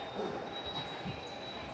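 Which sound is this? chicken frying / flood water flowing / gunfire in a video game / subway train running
subway train running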